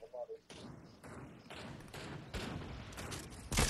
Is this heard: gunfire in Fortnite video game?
yes